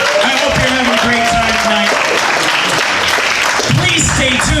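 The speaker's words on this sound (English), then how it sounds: "Give yourselves a round of applause" An audience claps at a live show, dense applause running throughout while a voice speaks over it.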